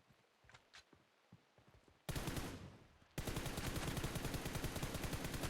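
Sustained automatic gunfire in a PUBG battle-royale match: after a quiet stretch, loud rapid bursts break out and then settle into continuous, evenly spaced machine-gun fire with no talk over it.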